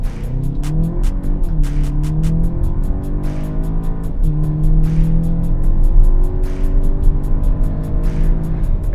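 A 2017 Volkswagen Arteon's engine revs hard as it launches and climbs through gears, its pitch rising repeatedly as it accelerates, loud and close, with sharp clicking ticks layered on top.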